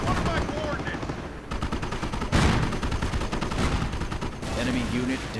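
Gunfire from a WWII real-time strategy game battle, with machine-gun bursts and rifle shots crackling steadily throughout, a heavier blast partway in, all under continuous game noise and a talking voice.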